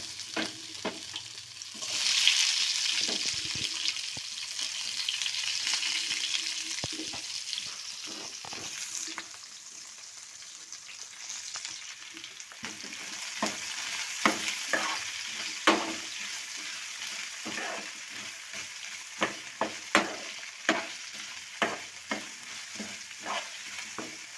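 Onions frying with ginger-garlic paste in oil for a meal maker fry, a continuous hiss of sizzling that flares early, then settles under repeated scraping and tapping of a spoon stirring the pan.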